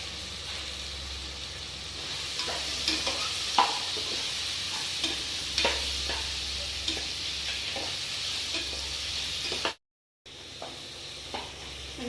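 Steady sizzling of tomatoes sautéing in a pan with irregular scraping and stirring taps, briefly cutting to silence near the end.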